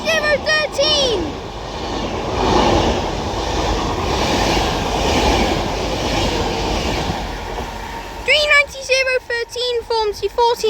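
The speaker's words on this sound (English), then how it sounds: "Now passing through is going to be the 1452 Avanti West Coast service to London Euston from Liverpool Lime Street." An Avanti West Coast Class 390 Pendolino, unit 390013, runs through Mossley Hill on the Liverpool branch of the West Coast Main Line. Its loud, steady rumble and wheel noise build and fade past the listener, with station announcement voices before and after.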